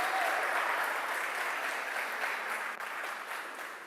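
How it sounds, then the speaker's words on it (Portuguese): A church congregation applauding during a sermon, a thick, sustained patter of many hands that holds steady from start to finish, loud and close, with no voices on top. "Você pode aplaudir ao Senhor por isso?"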